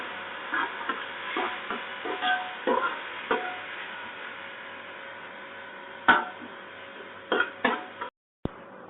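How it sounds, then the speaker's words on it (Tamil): Coriander and mint leaves are stirred in a pan while cooking a jeeraga samba beef biryani. A spatula knocks and scrapes the pan in an irregular rhythm, close and clear, with no one speaking. "இதை 1 நிமிஷம் வதக்குவோம்."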